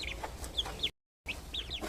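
Hen and chicks clucking and peeping in an animated children's story, several quick chirps and clucks at moderate level, broken by a short silent gap before more clucking.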